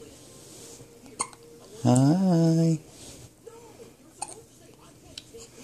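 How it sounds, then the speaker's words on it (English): A baby hiccuping, with one strong, drawn-out hiccup-like vocal burst plus a few small catches around it, close and clear indoors while an adult says a brief word. "The baby's got the hiccups."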